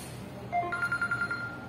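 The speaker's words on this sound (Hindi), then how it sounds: "वो फोन आ रहा" A telephone rings during a casual friends' challenge at home, giving a short electronic ringing pattern of several quick repeated pulses, moderately loud over a low background hum.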